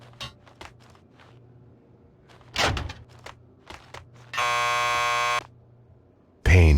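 A door buzzer in the Max Payne 2 video game sounds as a steady, harsh electric buzz lasting about a second, preceded by footsteps and a thump and followed by another loud burst of noise, over a low background hum.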